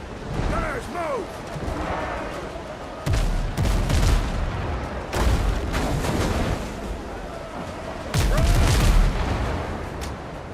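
Ship cannons fire in heavy booming volleys during a naval chase in the pirate game Windrose, with bursts near the start, around three seconds and again near eight seconds, loud and close among creaking mechanical game sounds.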